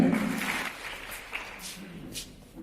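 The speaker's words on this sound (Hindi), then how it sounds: "सोनी गुप्ता जी, तालियों से आपका स्वागत करें।" Audience applause welcoming guests at a school event, a moderate burst of clapping that fades gradually over a few seconds, with faint voices and scattered bumps near the end.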